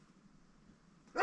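A dog gives one short bark near the end, loud and close, after a quiet stretch of low background noise.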